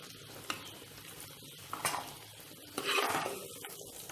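Eggs frying in oil in a pan, heard as a soft continuous sizzle with a few scraping stirs and light utensil knocks, fairly quiet and without speech.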